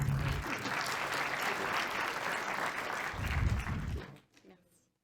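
Audience applause at an award and oath-taking ceremony in Marseille, a dense sustained ovation filling the hall, swelling briefly near the end before fading out quickly.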